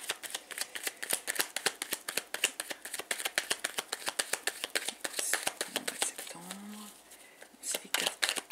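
A deck of cards shuffled by hand for a reading, steady rapid riffling and flicking close by, with brief soft speech in the background near the end.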